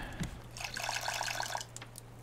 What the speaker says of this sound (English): let's just pour the water out